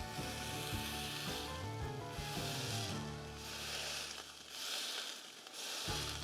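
Smashed quarter-pound burger patty sizzling loudly in a hot pan seasoned with a little oil, a continuous close-up crackle with low scraping and pressing sounds underneath and no talking.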